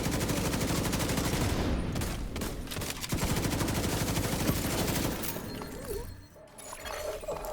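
Dense, continuous video-game gunfire with rapid overlapping shots and shattering impacts, loud and sustained throughout, briefly thinning near the end before resuming.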